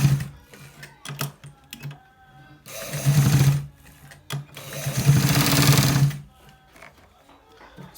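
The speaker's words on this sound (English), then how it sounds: "So let's stitch it right now." A sewing machine stitches a V-neck seam at a quarter-inch allowance in two steady bursts of rapid, close mechanical whirring, separated by quiet pauses filled with small clicks and handling sounds.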